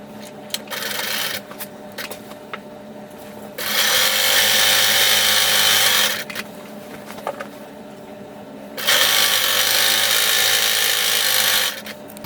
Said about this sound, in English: I'm going to sew these two selvages together with a 1/2 inch seam allowance.